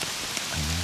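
Steady rain hisses down in a park of lakes in October, a dense, even wash of drops close by with no talk over it.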